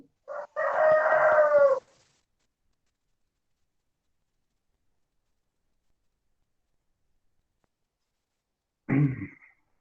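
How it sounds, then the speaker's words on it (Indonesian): A rooster near a chicken coop gives one clear, fairly close crow. Quiet follows, then a brief muffled thump near the end. "Kandang ayam."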